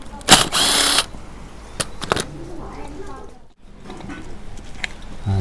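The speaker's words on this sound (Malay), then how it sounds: "Dua skru ni korang kena cabut." A power tool unscrews screws from a pump in a work setting, with a loud buzzing burst near the start, then ratcheting clicks and scattered clanks, and a voice talking in the background.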